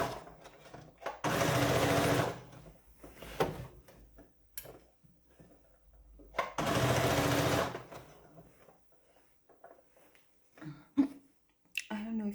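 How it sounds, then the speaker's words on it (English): A sewing machine stitches fabric with pins still in it, running in two short bursts of about a second each, separated by quieter handling noises and occasional soft voice sounds. "you can totally sew with the pins on"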